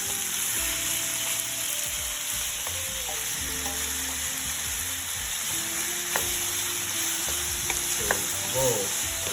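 Beef and vegetables sizzle in a pan for a beef sauce, a steady broad hiss with irregular scrapes and clicks of stirring throughout, fairly close and without talk.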